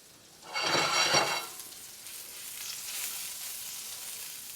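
Mushrooms for an omelette hit a hot pan with a brief loud hiss, then settle into a softer, steady sizzle that continues quietly.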